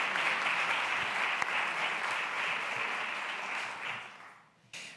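Sustained audience applause at an indoor talk or meeting, a steady even patter of many hands clapping that fades away near the end.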